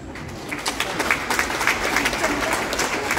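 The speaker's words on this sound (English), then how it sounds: "If you can please give them a big round of applause as I call their name." An audience at a Filipino community gathering in New Zealand applauds, a close, full burst of clapping with distinct sharp claps that swells slightly and keeps going steadily.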